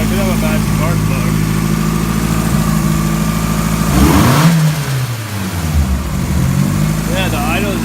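A car engine idling with its blow-off valve removed, a steady loud hum that dips around the middle as revs rise and fall, then settles back to a constant idle; no talk over it.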